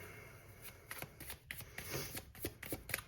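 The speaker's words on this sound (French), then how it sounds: "Allez, on va prendre 2 petites cartes du Light Seers Tarot" Tarot cards from a Light Seers Tarot deck are handled and drawn, giving a run of soft, quick card riffles and slaps in irregular bursts, close and fairly quiet.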